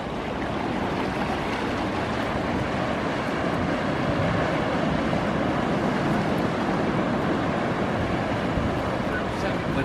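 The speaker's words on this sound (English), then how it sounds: "They're really small waves." Small ocean waves roll in off Hawaii, a loud, steady wash of surf and wind noise that never lets up, heard from nearby.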